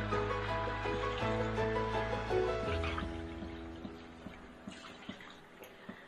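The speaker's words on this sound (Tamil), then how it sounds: "சாரி தேங்காய் பால் ஆட் பண்ண" Coconut milk is poured into a pot of sautéed mushrooms for pulao, a soft liquid splashing heard under background music tones, followed by faint drips and taps.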